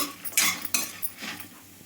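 A spoon scrapes and clanks against a pan while bitter gourd and garlic masala fry, with a few sharp metallic strokes over a soft background hiss.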